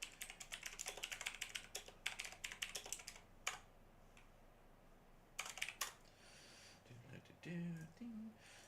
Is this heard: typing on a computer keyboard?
yes